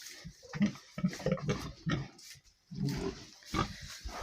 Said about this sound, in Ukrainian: Оці свині.